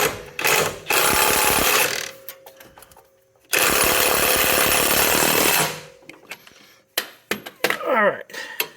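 An impact wrench works a wheel nut on a tow vehicle in two loud, sustained rattling bursts with a short gap between them, followed by scattered clanks and handling noises.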